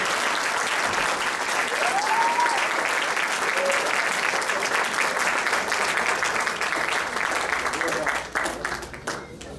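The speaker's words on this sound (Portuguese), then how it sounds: "Uma salva de palmas aí a Jesus." A church congregation bursts into sustained applause for Jesus right after a prayer, dense clapping filling the space for several seconds alongside a few voices, then thinning and tapering off toward the end.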